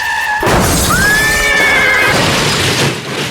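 A horse neighs loudly in a single rising, wavering whinny over a busy street backdrop of early city traffic congestion, close and clear with no talking.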